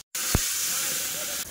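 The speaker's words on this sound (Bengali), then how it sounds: "তো ছাঁকা তেলে মাছগুলো ভেজেছে" Fish frying in a pan of hot oil gives a steady, close hiss and sizzle that runs almost unbroken, with one short sharp crackle near the start.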